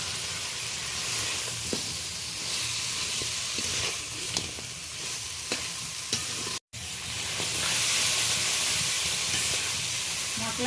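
Pre-fried crab pieces are stirred into a bubbling spice gravy thickened with rice flour, a continuous close sizzle broken by scraping stirs and a brief dropout near the end, with no talking.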